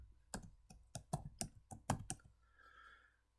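Keys on a computer keyboard are struck in a quick, uneven burst of about nine sharp clicks as a macro name is typed, followed by a faint hiss, close up with no talking.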